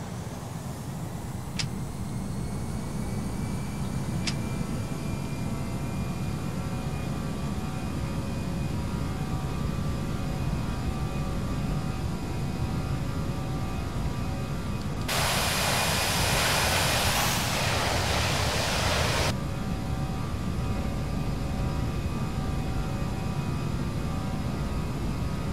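Aerosoft Airbus jet engines in the Prepar3D flight simulator drone steadily, a loud continuous roar with whining tones, heard from inside the simulated aircraft on a flight from Athens to Corfu; a brief burst of hiss rises midway.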